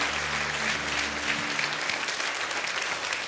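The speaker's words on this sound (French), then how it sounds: "Amen et applaudissent bien fort le roi des rois" A church congregation applauds loudly and continuously, a dense wash of many hands clapping close by, with a brief voice at the start under the clapping.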